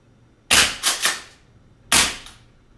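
A VFC Fabarm STF/12 gas blowback airsoft shotgun firing BBs: a sharp close crack followed by two quicker pops, a pause, then another sharp shot, each with a short gassy tail.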